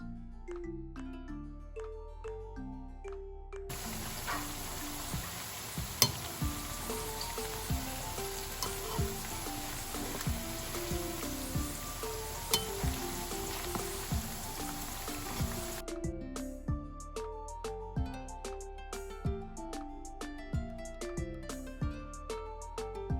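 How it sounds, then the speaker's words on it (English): Potato chips frying in hot oil, a dense crackling sizzle that stays steady and close, with music playing throughout and louder during a middle stretch. "now you can see that they're starting to crisp up, and you know that the potatoes are cooked inside because they were cooking pretty slowly"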